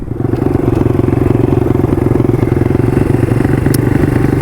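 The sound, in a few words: 150 RXF motorcycle engine riding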